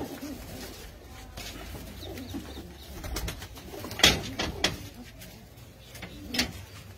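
Pigeons at a loft cooing in soft, low repeated calls, with a few sharper flutters and bumps around the birds; moderately close, with no talk.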